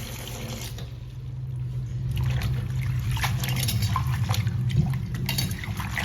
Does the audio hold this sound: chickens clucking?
no